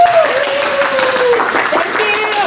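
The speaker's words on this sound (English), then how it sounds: "Let's give them a round of applause." Audience at a FIRST Robotics awards show applauding the judges, a loud sustained wash of clapping with voices and cheers mixed in.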